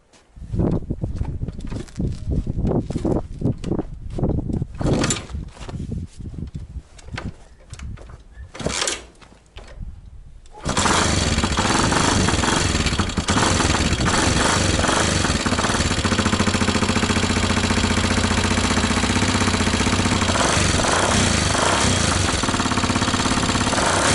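A small gasoline engine on a homemade tricycle camper sputters through several tries amid clatter, then catches and runs steadily, loud and close, with a constant buzzing drone.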